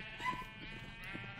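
A sheep bleats faintly in a wavering, nasal call that repeats at low volume, with dull background rustle underneath.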